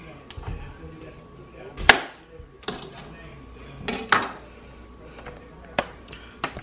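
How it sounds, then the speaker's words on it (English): Knife chopping off the ends of a cucumber on a cutting board in a home kitchen while making a tomato, cucumber and onion salad: several sharp, separate knocks, spaced unevenly, close and distinct. "Now I'm going to cut the ends of the cucumber."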